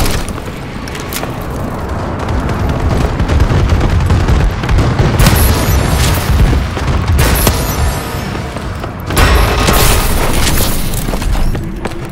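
A bombing run in Call of Duty Advanced Warfare, with heavy booming explosions rolling one after another amid gunfire, loud and dense throughout.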